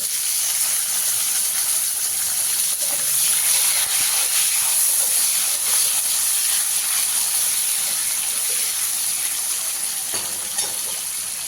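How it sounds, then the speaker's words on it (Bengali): Loud, steady sizzling and hissing of chopped tomato frying in hot oil, continuing unbroken with a few faint crackles and no voices. "এর মধ্যে আমি টমেটো কুচি দিয়ে দেব।"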